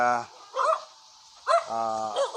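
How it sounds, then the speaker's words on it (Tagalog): Dog barking near a school in the Philippines, a few short barks between stretches of someone speaking, the barks moderately close and partly overlapping the talk. "may asong tumatahol"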